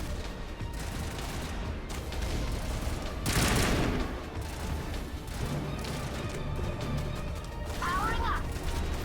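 Assault rifle fire in a video game, bursts of rapid shots with a loud volley near the middle, set among mechanical clicks and game effects while a voice talks over it.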